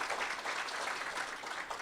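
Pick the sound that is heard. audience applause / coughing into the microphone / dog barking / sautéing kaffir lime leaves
audience applause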